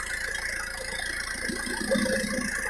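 An Isuzu Panther diesel engine idles steadily during a nozzle-cleaning purge, giving a continuous mid-pitched clatter with a light rattle, heard close up and without talk.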